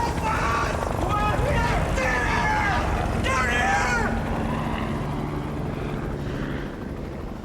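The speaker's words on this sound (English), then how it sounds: "A search and rescue helicopter has passed within meters of the top of their canyon" Search and rescue helicopter passing low overhead above a Utah slot canyon, a loud steady rotor roar that fades slightly toward the end, with people shouting and screaming over it.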